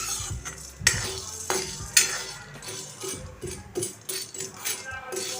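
Bottle gourd curry stirred in a pan, with metal utensil clinks and scraping sounds in an irregular rhythm, some louder knocks among them, and faint talk underneath.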